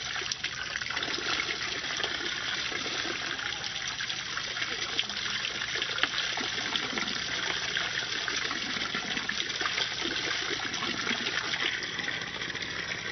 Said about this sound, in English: Right now, I'm taking a sample of the treated water that comes out from the facility.